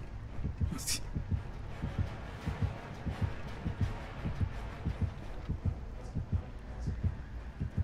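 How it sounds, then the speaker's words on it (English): A steady heartbeat effect from the video game Dead by Daylight thumps in a regular low rhythm for the whole stretch, with a faint hum and brief higher noises around it. "I still hear the heartbeat."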